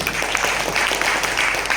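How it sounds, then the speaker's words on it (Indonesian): Audience applause at a corporate training session: a short, dense burst of clapping from a room of people, loud and even from start to finish. "Tepuk tangan dong buat gue"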